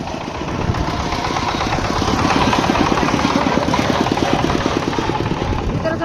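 A motor boat engine drones loudly and steadily up close, with a rapid rattling chug throughout.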